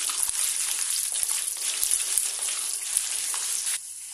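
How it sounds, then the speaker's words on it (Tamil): Seven or eight garlic cloves sauté in a pan with a loud, dense, steady sizzle that drops off sharply near the end. "பூண்டு வந்து நல்லா செவந்து வர அளவுக்கு நல்லா வதக்கிக்கோங்க"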